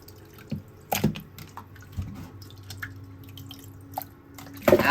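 Water running and dripping over freshly cleaned oysters in a kitchen sink strainer, a steady trickle with irregular splashy drips and a few louder clatters near the end, close and fairly quiet.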